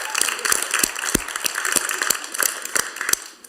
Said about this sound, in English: just give yourself a round of applause for that